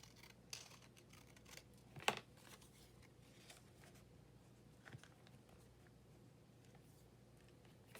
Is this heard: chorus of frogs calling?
no